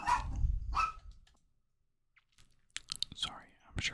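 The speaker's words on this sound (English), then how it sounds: "My dog just started barking." A dog barks twice in quick, loud bursts in a quiet room, followed by a stretch of near silence and then soft whispering and small handling noises.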